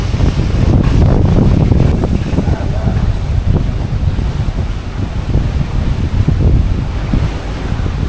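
Strong wind blowing across the deck of the passenger ship KM Leuser under thick clouds, a loud steady roar with gusty buffeting and a surf-like wash throughout.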